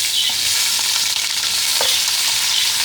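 Onions frying in a cup of hot ghee for fish biryani, a loud, constant close sizzle with faint stirring scrapes and no talking.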